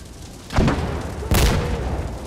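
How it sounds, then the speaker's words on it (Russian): A grenade goes off in the tactical shooter Insurgency: Sandstorm: two deep, punchy booms about a second apart, the second louder, each trailing into a rumbling roar of ambient battle noise. "Пошла граната с их стороны."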